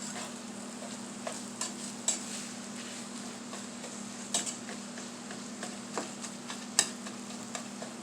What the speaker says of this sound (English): let me grab a spatula and let's kind of get this stirred up a little bit